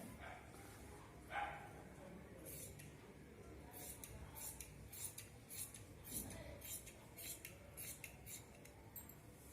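Scissors cut through blouse fabric on a tailoring table, a series of faint, crisp snips in irregular bursts, quiet and close, with a few sharper clicks among them.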